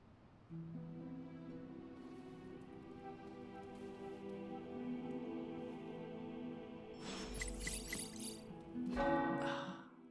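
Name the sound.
tower bells ringing in the video game Marvel's Midnight Suns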